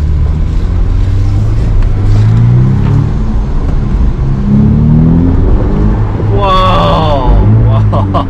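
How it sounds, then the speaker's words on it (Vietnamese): A Ferrari F8 Spider supercar pulls away under a light press of the throttle, its engine note rising and falling in loud, close revving sweeps, with someone talking excitedly over the acceleration. "nhích nhẹ chân ga thôi mà xe nó vọt về phía trước rồi"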